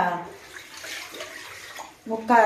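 Water pours from a metal pot into a larger cooking vessel as it is filled to boil sago, making a steady broadband splashing rush. The pouring grows louder near the end, and a voice joins briefly.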